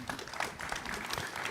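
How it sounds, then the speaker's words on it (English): A summit audience breaks into a short burst of applause. The dense clapping is fairly faint and distant, and a voice can be heard faintly beneath it. "round of applause"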